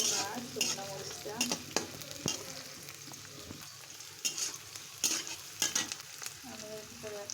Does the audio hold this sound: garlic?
yes